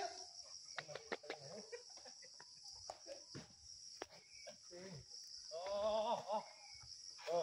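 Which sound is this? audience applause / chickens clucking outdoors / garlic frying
chickens clucking outdoors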